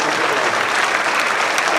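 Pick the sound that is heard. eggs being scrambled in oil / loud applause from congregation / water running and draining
loud applause from congregation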